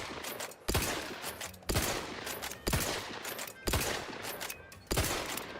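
Rapid automatic gunfire in a video game, fired in five separate bursts of a few seconds each with brief pauses between, loud and close throughout.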